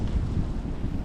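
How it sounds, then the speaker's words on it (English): Strong wind buffets the microphone in a steady low roar with rough gusting, loud and close, with no voices. "see them wind gusts there. Yeah, that's still getting blasted"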